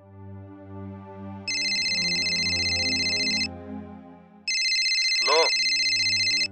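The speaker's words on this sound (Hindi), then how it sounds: "आ गया किसी एक्टर का फोन पेमेंट के लिए" A mobile phone's ringtone sounds for an incoming call in two loud electronic bursts separated by a short pause, over soft background music, with a voice speaking briefly during the second burst.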